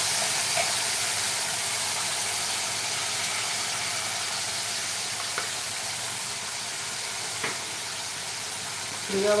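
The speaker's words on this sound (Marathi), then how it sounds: "वाटण्याला चांगलं तेल सुटेपर्यंत आपल्याला परतायचं आहे" Green masala paste sautéing in hot oil for a spicy kala chana rassa curry, giving a steady, moderately loud sizzling hiss that runs throughout, with a few faint clinks of stirring.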